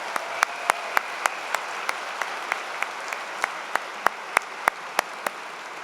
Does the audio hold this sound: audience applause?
yes